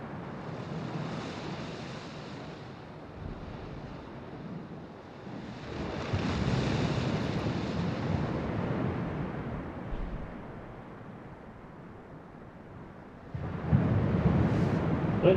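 Pacific Ocean surf rolling onto an evening beach near Tofino on Vancouver Island as fog comes in, a steady broadband wash with swells building around the middle and again near the end, mixed with wind noise on the microphone.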